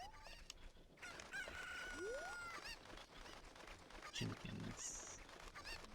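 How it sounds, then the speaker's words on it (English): Cucco chickens in Zelda: Ocarina of Time cluck, with a crowing call near the start, over a busy bed of other game sounds and tones. "Chickens."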